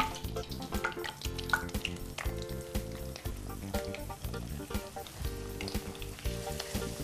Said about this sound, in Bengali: এবার আমাদের পেঁয়াজগুলো ভেজে নিতে হবে